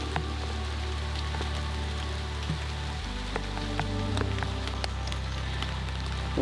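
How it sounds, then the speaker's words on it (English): Steady spring rain falls and patters on surfaces outdoors, a continuous dense hiss with scattered drops over a low rumble. "I love a good rainy day."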